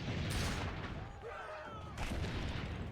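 Cannon fire in Assassin's Creed Brotherhood, heavy booming blasts at the start and again near the end with a lull of rumble between, loud and close.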